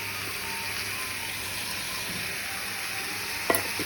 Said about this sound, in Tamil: ஆட் பண்ணி சொரக்காய் ஓரளவுக்கு வதங்குறது வரைக்கும் நம்ம இதை கிண்டிக்கலாம்